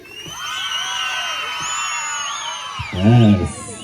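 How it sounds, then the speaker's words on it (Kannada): A comedy show audience in Koppal cheers and shouts together in a steady crowd roar, with a loud whoop near the end and voices over it. "ಬರ್ಲಿ ಒಂದು ಜೋರದ ಚಪ್ಪಾಳೆ ಕೊಪ್ಪಳ ಜನತೆಯಿಂದ"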